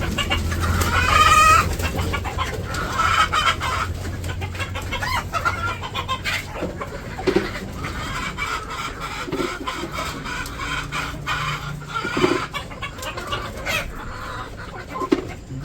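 Chickens cluck at a poultry farm where hens are laying eggs, with irregular clucks and calls over a steady mechanical hum and scattered knocks, moderately loud and close.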